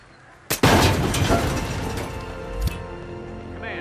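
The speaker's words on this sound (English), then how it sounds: "Someone is setting off explosions" Sharp blast followed by a sustained rumbling roar and crashing debris in the Hitman video game, Sapienza level, then a second thud around the middle; loud and close, no talking.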